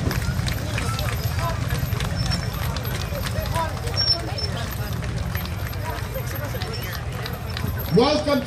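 Horses clip-clop on the street at the Boston Greek Independence Day Parade in 2014, giving a steady, dense patter of hoofbeats over a low crowd murmur, with scattered voices near the end.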